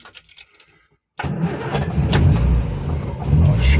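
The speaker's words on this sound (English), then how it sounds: "Pop the ignition on." A 1969 Morris Traveller's engine, slightly warm, cranks briefly and catches, settling into a close, steady idle that swells as it revs a little, after a few faint clicks and jingles beforehand.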